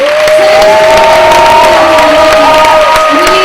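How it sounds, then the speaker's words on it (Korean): Church congregation at a worship service bursts into loud, sustained applause and cheering, a dense wall of clapping with shouts rising over it throughout, while a steady sung or musical tone carries underneath. "우리 주님 앞에 다시 한번 최고의 박수 함성으로"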